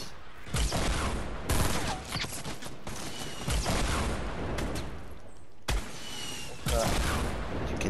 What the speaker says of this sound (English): Gotta get the last kill with this heavy shotgun.